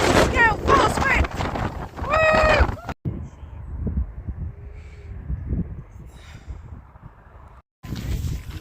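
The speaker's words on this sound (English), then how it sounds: "Oh, gale force wind, gale force wind." A gale-force wind buffets the microphone outdoors in a steady, loud roaring rumble that gusts and drops briefly. People shout and talk excitedly over it at the start.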